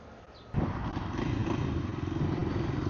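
A newly bought motorcycle's engine kicks in abruptly after a quiet start, then runs with a close, steady, throbbing rumble for the rest of the clip.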